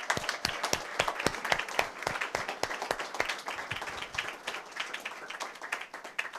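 An audience at the DataFest Africa 2024 conference claps for itself: distinct, fairly close individual handclaps in an uneven patter that thins out and grows scattered toward the end, with no talking.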